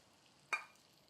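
Hot oil tempering coloured with turmeric is poured into cooked rice, giving one brief, quiet sizzle that quickly fades into a near-silent background.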